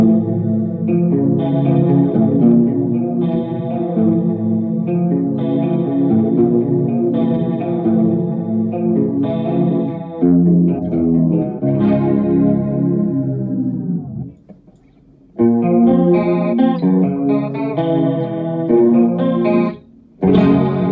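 Clean electric guitar with a shimmering chorus effect, playing ringing chords and arpeggios up close, with a brief pause near the end.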